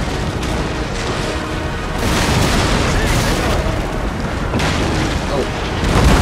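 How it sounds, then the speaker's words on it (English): Naval cannon fire between a pirate ship and a Spanish galleon in Empire: Total War, booming repeatedly in a dense, loud battle din with overlapping blasts and rumble, commentary talk running underneath. "these two vessels are trading shots at Achilles"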